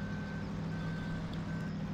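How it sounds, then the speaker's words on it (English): Truck backing up in the Farming Simulator 2013 video game, its reversing alarm giving evenly spaced electronic beeps over a steady, close engine rumble. "Well, back the truck in."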